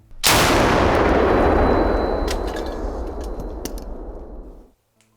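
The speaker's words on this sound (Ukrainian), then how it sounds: "Это нет, это постріл." A single loud gunshot rings out close by, its booming report rolling and echoing for several seconds before cutting off.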